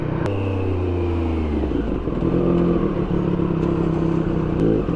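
A Triumph Street Triple 765 RS motorcycle rides through New York City traffic, its three-cylinder engine a steady close rumble with shifting pitch as it accelerates and eases off amid surrounding road noise.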